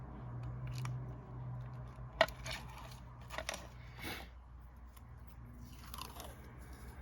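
Pinking shears snipping through paper, a handful of faint, crisp crunchy cuts spaced irregularly in a quiet room.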